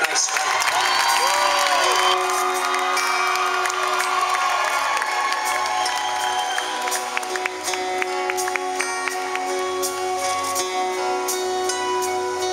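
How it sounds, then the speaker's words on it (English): A concert crowd cheers, whoops and claps for a country singer, with music and tonal lines running underneath and sharp claps and shouts scattered throughout, loud and sustained. "Give her a nice round of applause."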